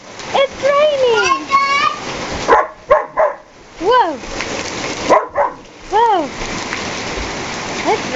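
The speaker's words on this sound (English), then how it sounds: "It's raining hard." Steady rain hisses throughout while a dog barks several times and people talk nearby.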